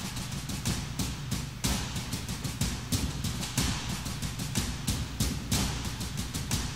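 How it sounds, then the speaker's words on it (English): A programmed percussion loop of tom, snare and rim-stick samples from a metal arrangement of Tears of the Kingdom music, with steady, dense repeating hits over a sustained low tone. "So all the percussion together sounds like this."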